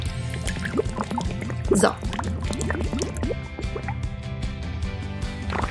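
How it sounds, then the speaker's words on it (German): Whipped cream goes into a glass with wet, squelchy, dripping sounds and a burst of liquid splatter midway, close and fairly loud, while a voice briefly speaks. "Ich gebe die Sahne in das Glas."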